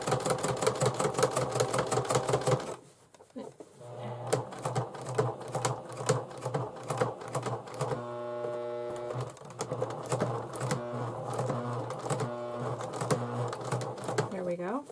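A sewing machine stitches through thick layers of denim for a bag, with rapid rhythmic needle bursts that pause, then restart and labor unevenly under the load.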